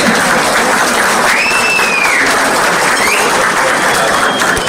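Loud, steady applause fills the room at an iftar dinner, a dense sustained clapping crowd with no voices standing out.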